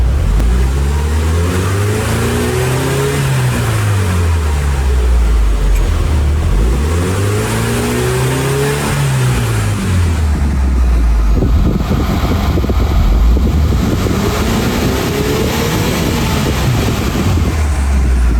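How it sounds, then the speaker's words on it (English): Porsche 997 Turbo engine revving in repeated rising and falling sweeps, then a rough burst of throttle; loud and close, with wind buffeting the microphone and no talk. "Let's take a listen to the engine."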